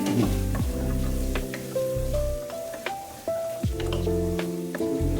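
Garlic sizzles and crackles in a hot pan while making penne alla vodka, a steady frying hiss with occasional stirring scrapes, close and fairly loud, with background music tones running throughout.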